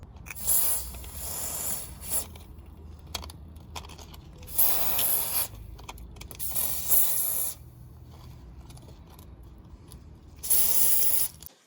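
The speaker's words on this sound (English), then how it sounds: "There's some WD-40 just to make sure that they come off nice and easy." WD-40 sprays onto the brake fittings of a Mk2 Golf GTI 16v in short hissing bursts, four separate sprays with quiet pauses and faint mechanical clicks between them.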